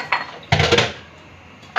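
Dishes and pots being washed clink and clatter in a few sharp, close bursts, with short quiet gaps between the knocks of metal and crockery.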